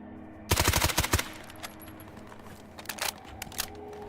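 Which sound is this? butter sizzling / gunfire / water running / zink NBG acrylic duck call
gunfire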